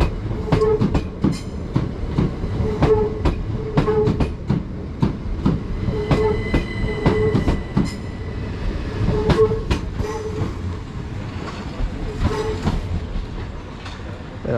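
A Southeastern train departs toward London Charing Cross from a platform in East Sussex, its wheels clicking in a steady clickety-clack rhythm over the rails as it passes close by, with a brief horn note.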